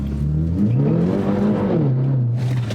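A tuned BMW F30 330e Stage 2 plug-in hybrid saloon rated at 400 bhp accelerates hard, its engine note rising and falling through a short loud pull, heard from inside the car.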